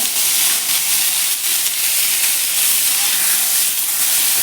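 Brinjal pieces hit hot oil in a kadhai with a loud, dense, continuous sizzling hiss that holds steady and close for the whole stretch, with no voices.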